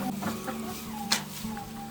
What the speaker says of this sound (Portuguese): Por agora estou deixando um galo com essa galinhada toda só por motivo de bem-estar.